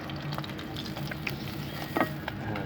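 Fish fry in hot oil on a homemade clay stove on a rooftop garden, a soft steady sizzle with scattered crackles and pops, fairly quiet and close.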